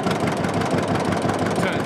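A vintage diesel tractor engine runs steadily in a smoky shed, a dense rumbling idle with a constant low throb that stays loud throughout.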